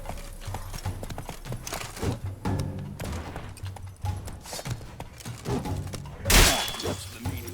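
Horse galloping in the video game The Witcher 3: Blood and Wine: rapid, continuous hoofbeats close by over game sounds, with a loud crashing burst near the end.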